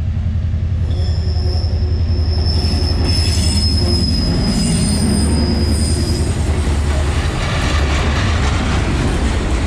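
Loaded eastbound coal train cars rolling through a curve, wheels letting out a sustained high-pitched squeal over a steady low rumble, loud and close throughout.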